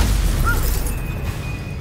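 A Confringo fire spell explodes in Hogwarts Legacy: a loud, dense burst and rolling boom that keeps rumbling, with a brief whistling tone rising over it.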